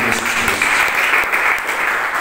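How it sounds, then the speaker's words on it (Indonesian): A church congregation applauds during a sermon on the gifts of the Holy Spirit, a dense, loud, continuous wash of clapping heard alone, with no speech on top. "Beri tepuk tangan."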